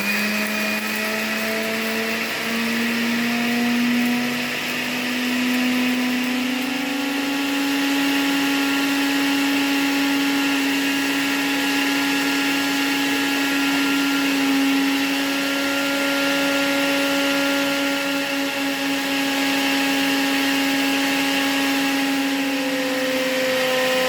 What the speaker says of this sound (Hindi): जैसे ही ये ब्लेंडर चलता है तो ये शुगर चारों तरफ उड़कर जो है हमारे किचन का बहुत बुरा हाल करती है